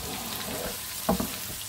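Onions and shallot sizzling in a pan for braised endives, a close, steady frying hiss with a brief stir-like clink, no talking.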